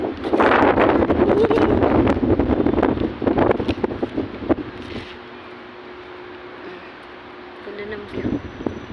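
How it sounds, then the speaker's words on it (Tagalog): Strong wind at a beach resort in Bicutan buffets the microphone with loud gusts during the first seconds, then eases to a softer rush with faint background sounds. "Ang sarap ng hangin dito."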